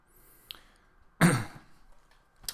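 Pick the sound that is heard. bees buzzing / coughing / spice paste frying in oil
coughing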